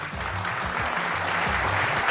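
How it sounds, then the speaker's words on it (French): A studio audience at a televised quiz show breaks into dense, steady applause, close and sustained for a couple of seconds with no voices above it. "Ils sont à applaudir"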